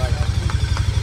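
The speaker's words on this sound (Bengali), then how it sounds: "কিন্তু খুশির ব্যাপার হচ্ছে বাইকটা স্টার্ট হয়ে গেছে।" A Harley-Davidson motorcycle engine running after being started on a cold evening, a loud close idle with a rapid, even low thumping pulse throughout.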